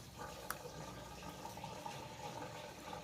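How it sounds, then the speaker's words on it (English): 93 octane gasoline being poured into the fuel tank of a 1993 Chevrolet S10 truck with a 4.3 engine, parked for years; a faint, steady liquid trickle and splash with one brief knock, no talking. "I'm going to go ahead and add some 93 octane because this thing's set for 17 years"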